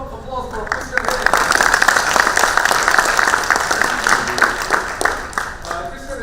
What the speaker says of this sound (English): So can we have a round of applause for Christian here?